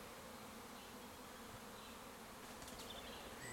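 Honeybees hum and buzz around an open hive as they fly in and out, a soft, continuous close-up drone with no voices.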